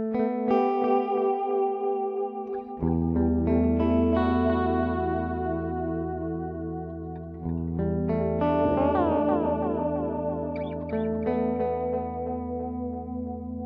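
Electric guitar played through an HX Stomp Space Echo tape delay emulation, sustained chords and notes trailing into repeating echoes and washy tails, played alone without talk.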